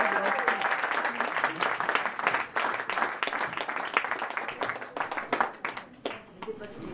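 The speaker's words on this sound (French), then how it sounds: "on peut l'applaudir." Audience applause at a contest before the jury gives its scores, a dense clapping from a crowd lasting several seconds, moderately loud and fading toward the end, with some voices over it.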